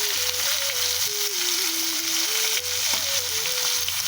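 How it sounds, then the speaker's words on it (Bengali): Small fish frying in hot oil in a home kitchen, a steady close sizzle running alone throughout with a faint tonal hum drifting beneath it. "মা মাছ রান্না করার জন্য প্রথমে মাছগুলোকে ভেজে নেবে"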